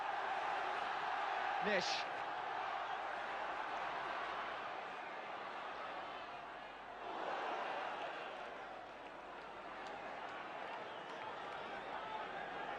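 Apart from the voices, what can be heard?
Derby football crowd at the Baseball Ground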